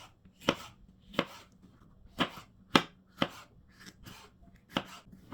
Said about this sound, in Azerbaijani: Bir orta boy biberi də yarım halqa şəklində doğrayıram.